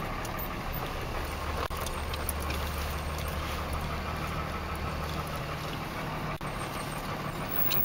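A Dodge Cummins diesel truck engine runs steadily as it warms up, a low, constant rumble with a faint high whine above it, close and unbroken, with no talking.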